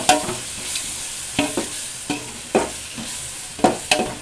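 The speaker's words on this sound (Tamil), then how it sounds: "இந்த ஸ்டேஜில் நம்ம வந்து ஒரு 100 ml தயிர் ஊற்றிக்கலாம்." Biryani masala with curd sizzles in a pan while a spoon scrapes and stirs it in quick, irregular strokes, close and clear with no talking.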